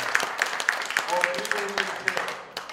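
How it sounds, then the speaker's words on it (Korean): Audience clapping in thanks after a lecture, heard as a quick run of claps in a steady rhythm under a voice speaking, moderately loud and fairly close. "감사의 박수 부탁드리겠습니다"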